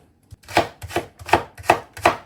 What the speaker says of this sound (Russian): дальше нужно нарезать мелко луковицу.